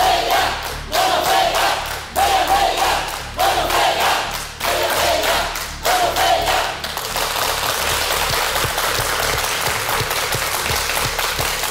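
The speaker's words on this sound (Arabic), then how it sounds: "تشجيع لجامعه المنوفيه" A studio audience cheers and claps for Menoufia University at a televised university quiz contest, loud rhythmic bursts of chanting and clapping in repeated waves, then settling into sustained dense applause.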